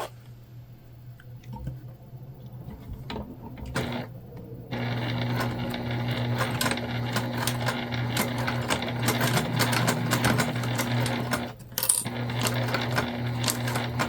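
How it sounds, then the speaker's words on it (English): Sewing machine stitching up both sides of a fabric candy bag, quiet handling at first, then a steady mechanical hum and rapid clatter that runs on with one brief pause. "go ahead and sew this together on both sides"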